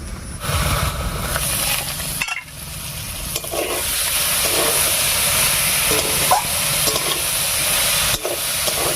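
Fish-head curry with potatoes, taro and spices cooking in an uncovered pot sends up a continuous loud hiss and sizzle, broken briefly by a short clatter as the lid comes off.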